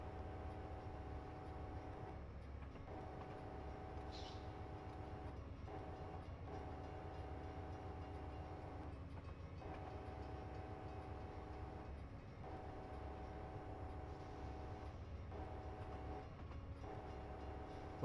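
Passenger train in Train Simulator 2021 on the Illinois high speed route, a steady low rumble and drone running continuously, fairly quiet, with a faint brief chime partway through and no talking.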